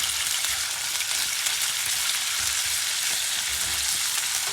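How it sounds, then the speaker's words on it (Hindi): Chicken fries in a pan with a steady, dense sizzle that holds at an even level throughout, with a few soft bumps underneath and no voices. "देखिए जी, चिकन हमने तड़क लिया, भून लिया"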